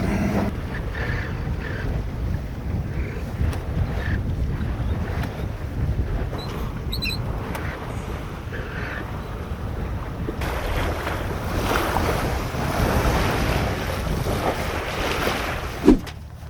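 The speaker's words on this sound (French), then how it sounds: "On a cette petite houle, c'est elle qui nous freine, hein." A small sailboat, shorter than 40 feet, pushes through a short choppy sea swell, with steady wind rush and water sloshing along the hull, continuous and close without voices.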